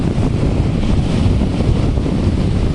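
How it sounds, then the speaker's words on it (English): Wind buffets the microphone on the Pacific Ocean shore with a steady, broad roar of surf beneath, loud and constant throughout with no voices. "This is the Pacific Ocean."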